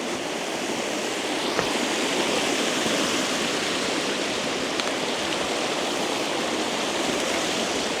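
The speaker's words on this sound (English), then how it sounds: "So now let's try that whitewater." Whitewater rushes in a river in a dense, continuous roar of broadband noise, close and steady throughout with no talking.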